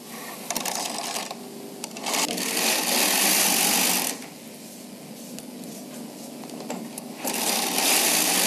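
Bond Classic knitting machine carriage pushed across a row of needles, a loud close whirring, clattering rattle in long sustained passes that drop quieter between strokes.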